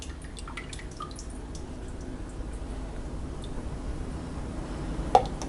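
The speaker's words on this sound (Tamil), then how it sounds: "இப்போ நெய் விட்டுக்கலாம்." Ghee poured onto rice while making vegetable biryani, giving soft, faint liquid drips and trickles at a low level over quiet kitchen background, with one sharper tap near the end.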